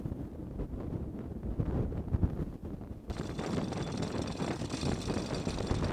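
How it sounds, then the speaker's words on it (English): Strong wind roars and gusts across the microphone aboard a sailboat in heavy weather, a continuous rough rumble that grows broader and harsher halfway through, with no voices. "in this wind, the wind's just going to take the bow"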